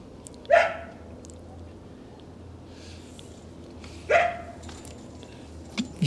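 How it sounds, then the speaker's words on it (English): A neighbor's dog barks in a backyard urban garden, giving two single distinct barks several seconds apart and a faint third near the end, moderately close over a steady low background hum. "The neighbor's dog's looking for me."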